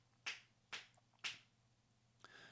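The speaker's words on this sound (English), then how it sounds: "I'm going to snap my fingers behind me" Three sharp, separate finger snaps made behind a FIFINE K-688 microphone, faint and evenly spaced in a quiet room, followed by a soft rustle.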